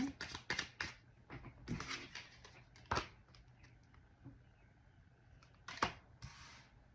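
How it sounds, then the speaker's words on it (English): A deck of tarot cards is cut and handled in quick papery snaps and riffles, close and soft, in bursts separated by quieter stretches, with faint low background noise. "I'm going to cut the deck."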